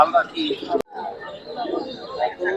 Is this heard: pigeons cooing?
yes